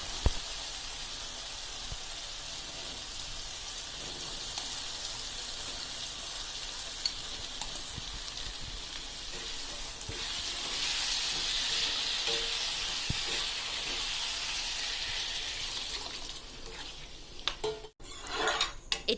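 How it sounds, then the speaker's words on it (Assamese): Tomatoes and boiled chickpeas frying in a pan for ghugni, a steady close sizzle with occasional stirring scrapes, growing a little louder midway, with no voices. "বিলাহীখিনি গলি যোৱালৈকে ভাজি ল'ব। বিলাহীখিনি ভজাৰ পিছত বইল কৰা কাবেলি বুটখিনি দি দিব।"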